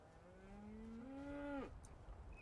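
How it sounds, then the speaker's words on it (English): A cow moos once in a single long, drawn-out low call from a game's sound effect, rising slightly then dropping off sharply, clear and alone against a quiet background. "Okay, the cow I can deal with."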